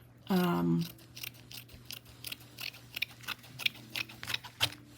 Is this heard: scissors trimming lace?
yes